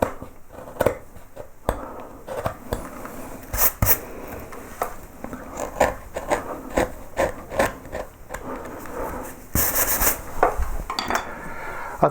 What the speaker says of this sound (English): this background smoothed using our flat gouges, and where we need to, we'll use one of these skew chisels into these tight corners